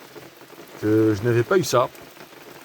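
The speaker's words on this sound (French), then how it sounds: "Enfin, une vraie pluie qui mouille." Steady rain falls on a garden, a continuous soft hiss of drops heard close by, with a person speaking briefly over it.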